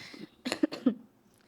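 A person coughs two or three times in quick, husky bursts close by, then quiet.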